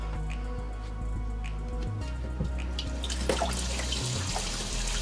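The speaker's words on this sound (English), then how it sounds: "Then we're gonna gotta rinse this off still." Running tap water rinsing something at a kitchen sink while making a salami and egg sandwich, a close, steady trickle with drips and splashes and no talking.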